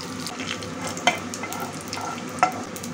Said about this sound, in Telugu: 1 స్పూన్ ఆయిల్ పోసుకోవాలి. ఆవాలు, జీలకర్ర, కొద్దిగా మినపప్పు, అందులో 2 ఎండుమిరపకాయలు వేసుకోవాలి.